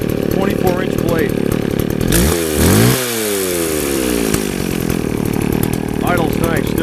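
A 24-inch chainsaw engine running close by, a steady buzzing idle that swoops up and back down in one brief rev midway before settling again.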